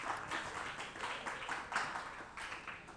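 Studio audience at a televised contest semifinal gives quiet, continuous applause, with claps rising and falling in soft waves at a distance.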